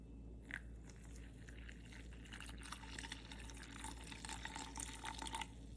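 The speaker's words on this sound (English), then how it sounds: "Now next, I'm going to add 500 milliliters of cold water first." Cold water poured slowly into a cold brew coffee maker over coffee grounds, a steady close trickling and splashing that grows fuller toward the end, with small drips and no talking.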